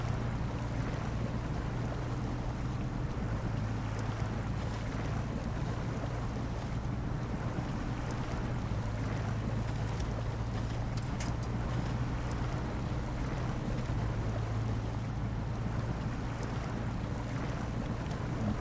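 Heavy truck in the SnowRunner video game wading through water in Michigan, a steady low engine drone with broad washing, sloshing noise held at constant loudness throughout, no talk.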